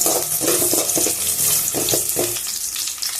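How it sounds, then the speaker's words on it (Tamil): Chopped ginger and garlic hit hot oil in a pan for a Salem-style spicy tomato chutney, a loud hissing sizzle with a few scraping stirs that eases toward the end, close up and with no voices. "அடுத்து இஞ்சி பூண்டு கட் பண்ணி வச்சுருக்குது அதை போட்டு மிக்ஸ் பண்ணிக்கலாம்"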